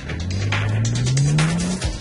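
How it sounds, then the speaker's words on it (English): Prototype BMW self-driving car pulls away, its engine rising steadily in pitch as it accelerates, loud and close with a faint tire squeal, then the revs drop off at the end. "One press of a button and the car was off."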